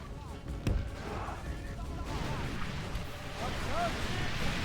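Cannon fire in a medieval battle video game, a sharp boom early on followed by rumbling battlefield noise and distant shots, with someone talking over it.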